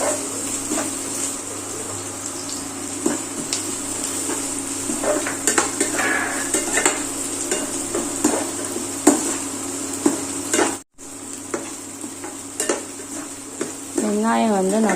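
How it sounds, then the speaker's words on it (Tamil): Onions, about a cup, sizzling in a pan while being stirred for paneer masala bhurji, with steady frying hiss and frequent scrapes and clinks of the spoon against the pan, heard alone and close. "வெங்காயம் வந்து நல்லா வந்து வறுபடணும்."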